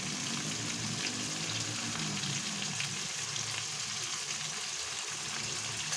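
Salt, turmeric and chili powder sauté in a frying pan for biryani with a continuous, even sizzle, fairly faint and unbroken, with no talk.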